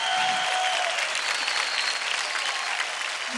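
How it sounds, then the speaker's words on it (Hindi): Dense, loud applause fills a TV dance competition stage after a fire-themed performance, a steady wash of many hands clapping for the whole stretch with no one talking. "तो हो जाए जबरदस्त तालियां।"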